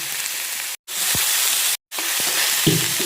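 Shredded cabbage sautéing with peas in a pan gives a steady, close, loud sizzling hiss, briefly cut off twice, with a soft stirring scrape near the end.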